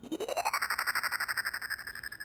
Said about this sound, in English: any kind of like whooshes or anything like that, like little Game Boy-y sounds